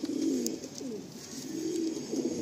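A female Chatiyal Jiriya pigeon coos nearby in low rolling phrases, one swell near the start and another toward the end, against a faint constant hiss.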